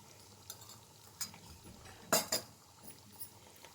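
A spoon stirring thick curd into gobi butter masala in a pan, with a few soft scrapes and two sharper clinks against the pot, close and quiet.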